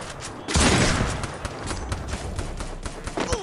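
Rapid bursts of gunfire in the mobile battle game Free Fire, played on an iPhone 8 Plus: a sudden loud volley of overlapping shots followed by continued crackling fire and scattered reports.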